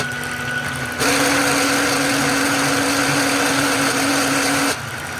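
An electric mixer runs on its lowest speed, whisking mayonnaise in a bowl: a steady, close, high whirring hum that starts abruptly, holds evenly for about four seconds, then drops back to a quieter background.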